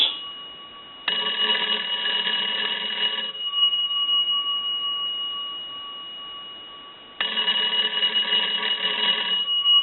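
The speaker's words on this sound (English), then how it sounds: "ring the bells like you were getting a call coming in" An old Kellogg wooden wall crank telephone's bells ring in two long bursts separated by a pause, loud and close, with a steady electronic tone running beneath throughout.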